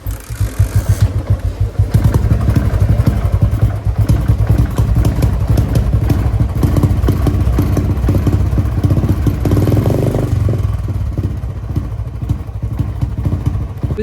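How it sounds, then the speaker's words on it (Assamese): A kick-started motorcycle idles with its choke on and runs continuously close by, giving off a steady low, pulsing engine rumble with clattery mechanical ticks. It carries on for the whole stretch without talking. "সেইটো বাইকটো অন কৰি কিনে চকটো অন কৰিব লাগিব অকণমান, নহ'লে অফ হৈ যায়।"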